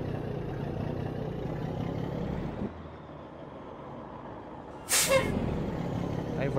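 A truck's air brake in American Truck Simulator releases one loud, sharp hiss of air late on, over a steady idling diesel engine rumble.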